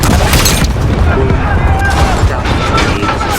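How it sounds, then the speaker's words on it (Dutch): A big video-game explosion and battle sound fill the clip with a loud, continuous roar of blasts and rumbling gunfire. Voices come through under the din. "Ik wil de explosie wat zien"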